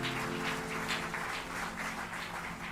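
Church congregation applauding during a sermon, a faint, continuous patter of many hands clapping in rhythmic pulses over a low steady hum.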